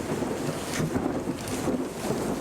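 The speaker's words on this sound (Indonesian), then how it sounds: "Guyuran air terdengar sangat deras disertai dengan angin yang cukup kencang" Heavy rain pours down hard in a residential neighborhood while strong wind blows, making a dense, continuous rushing hiss with gusty swells, steady and fairly loud with no voices.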